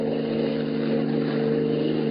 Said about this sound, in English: His keen hearing detects an approaching motor